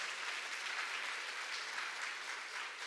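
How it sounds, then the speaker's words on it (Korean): Steady, dense applause from a church congregation at a retreat gathering, continuous and fairly soft, with no voices above it. "우리가 박수 보내드리고 싶습니다"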